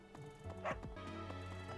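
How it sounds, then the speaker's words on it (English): A dog in the video game Fire Emblem Three Houses lets out a few quick, faint yips and barks over soft game music. "Hello, dog."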